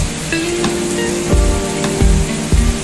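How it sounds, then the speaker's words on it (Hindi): Heavy tropical rain in Bali pours steadily as a dense, close hiss, with a few louder drip-like knocks and thuds standing out over the constant wash and no voices. "बारिश जब तक बंद तो होता नहीं है, तो बाहर निकल भी नहीं पा रहे।"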